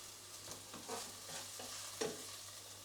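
A stir fry sizzles in a pan over medium to high heat, quiet and steady, with soft scraping strokes as the food is moved around.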